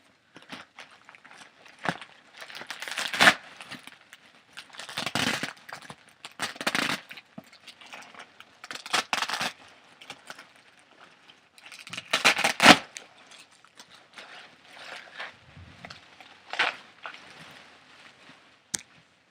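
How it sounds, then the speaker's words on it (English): Bubble wrap rustles and crinkles in soft, close bursts with quiet pauses between them, an intimate ASMR-style handling sound. "The bubble wrap is making some rustling noises, so perhaps you'll appreciate those."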